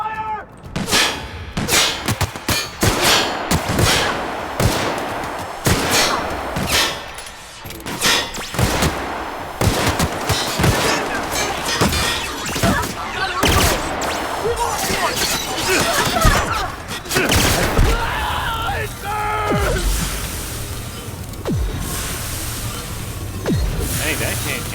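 Repeated heavy cannon fire in the video game The Outer Worlds, loud sharp blasts in irregular bursts with crackling debris, with talking over parts of it.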